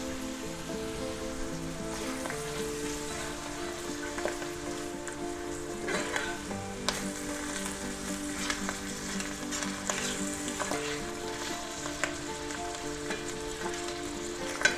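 Minced garlic sizzles in melted butter in a pan for a cheese and mushroom omelette, a soft continuous crackle with occasional sharper pops, over steady background music.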